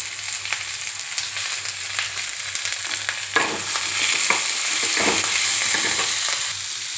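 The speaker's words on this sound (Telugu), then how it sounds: "ఇందులో ఇప్పుడు కొద్దిగా పసుపు, తగినంత ఉప్పు వేసి కలుపుకోవాలి." Potatoes with turmeric and salt stirred in a hot pan: a steady frying sizzle with scattered utensil scrapes, swelling slightly louder midway through.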